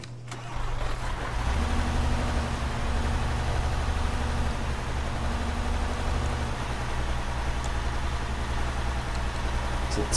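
A vehicle engine in the Arma 3 video game cranks and catches, then runs as a steady, loud mid-pitched drone with a slight rise in revs, continuing unbroken to the end.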